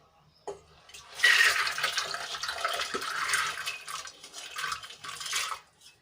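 Water pours steadily into a metal pressure cooker with soaked rajma (kidney beans) after a brief clink, a splashing rush lasting several seconds before tapering off.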